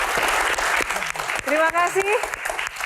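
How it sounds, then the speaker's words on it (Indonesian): An audience claps at a disaster-preparedness Q&A session, the applause rising briefly around and beneath someone speaking into a microphone. "Baik, tepuk tangan."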